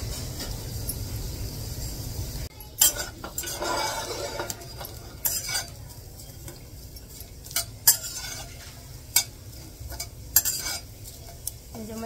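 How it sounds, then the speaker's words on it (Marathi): Sliced onions sauté in a hot kadhai (wok), with a steady low sizzle of frying broken by intermittent sharp clinks of a spoon stirring against the metal pan. "कांदा चांगला परतून घ्यायचा, पूर्ण लाल होईपर्यंत भाजून घ्यायचा आहे कांदा आपल्याला."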